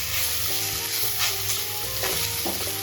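Banana flower usili being stir-fried in a non-stick pan gives a steady, close sizzle, with the soft scrape of a spatula stirring through the crumbly mixture at irregular moments.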